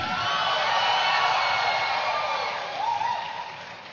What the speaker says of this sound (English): A big round of applause for Navya Shri.